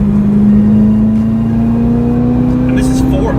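Chevy Corvette ZR1 engine accelerating hard, a loud, close drone rising steadily in pitch, with a speaking voice briefly overlapping near the end.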